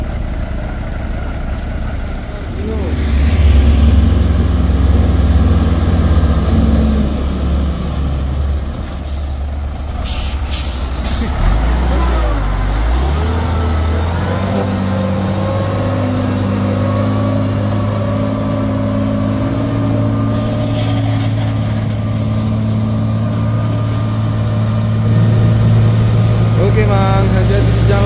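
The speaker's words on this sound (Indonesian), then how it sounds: "Keadaan truk pun sudah hidup ya bosku." A truck's engine idles and rumbles during a tow on a hill, with hissing air-brake bursts and shifting engine tones. People talk close by over the engine noise.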